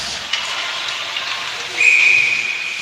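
A referee's whistle blows for icing during a high school hockey game in a rink, a single sharp sustained tone arriving late over steady arena hiss and murmur.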